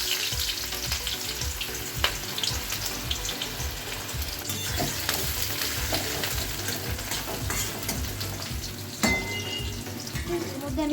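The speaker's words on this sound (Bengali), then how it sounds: "দিচ্ছি পেঁয়াজ কুচি" Chopped onion frying in hot oil in a kadai, with a steady, dense sizzle lasting throughout, a few sharper crackles and stirring clatters near the start and near the end.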